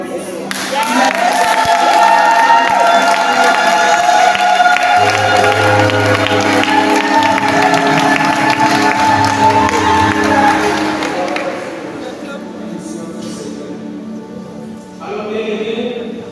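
Church congregation at an evening thanksgiving service, loudly acclaiming with cheers, whoops and clapping that stay strong for about ten seconds and then fade, with voices rising through the noise.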